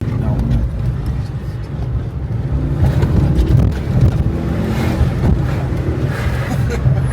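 Cabin sound of a Ford Focus ST hot hatch on the move, a broad rumble of engine and road noise that swells and settles as it gets going, heard from inside with wind buffeting and no clear talk.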